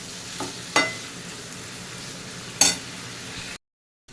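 Tamarind-jaggery water and leftover mixer water being added to a bitter gourd curry as it cooks, giving a steady low simmering hiss with two brief clinking spoon or pan sounds, close and without talk.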